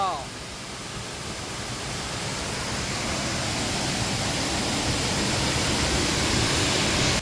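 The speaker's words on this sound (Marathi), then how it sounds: "काय धबधबा" A steady, dense roar of rushing water, like a waterfall, fills the clip with constant, unbroken noise that slowly swells a little louder.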